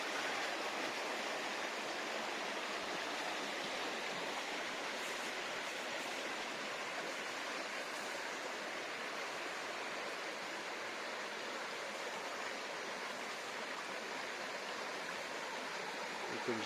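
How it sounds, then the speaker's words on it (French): The Siauve, a small reddish stream in the Creuse gorges near Anzême, flows with a steady, even rushing and babbling that stays constant and moderately loud throughout, with no voices. "Ce petit ruisseau"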